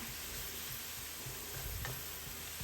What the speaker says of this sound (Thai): เราก็จะผัดหมูสับต่อไปเรื่อยๆนะคะ